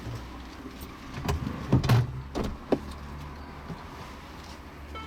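A car door being opened, with a few dull clunks and latch clicks in the middle over low engine or road hum inside the vehicle, moderately close and fairly quiet.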